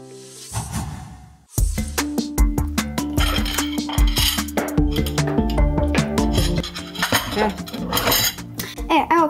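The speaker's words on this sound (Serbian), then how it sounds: "tamo se spremam da perem sudove" Dishes, pots and cutlery clatter and clink repeatedly at close range as someone gets ready to wash up, with sharp metallic chinks in a busy rhythm after a short quiet start.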